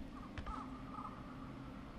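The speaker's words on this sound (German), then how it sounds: "ein paar Tiere, ein Vogel war das" A distant bird cawing in the foggy outdoor night of the horror game Outlast: Whistleblower, a couple of faint calls over a low quiet ambience.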